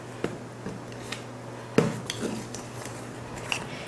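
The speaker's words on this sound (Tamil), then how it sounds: "இது போல் நல்லா மிக்ஸ் பண்ணி எடுத்துக்கணும்." Idli batter mixed with banana in a bowl, a few sharp spoon clinks and scrapes against the bowl sounding close and sparse over a low steady hum.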